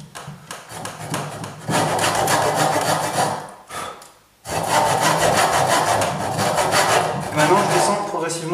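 Steady back-and-forth strokes of a hand saw biting through wood for a double-fork furniture leg joint, close and loud, with a short pause midway before sawing resumes.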